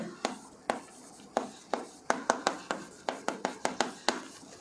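Marker or chalk writing on a classroom board, a steady run of quick tapping and scratching strokes in uneven rhythm, close and clear, with no speech.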